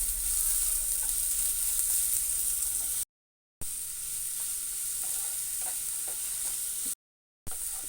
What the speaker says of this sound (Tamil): அதில் பெரிய சைஸ் வெங்காயம் 2 எடுத்து சின்ன சின்னதாக கட் பண்ணி வச்சுக்கிறேன். அதையும் இதில் சேர்த்துக்கலாம். நல்லா கிளறி விட்டுக்கலாம்.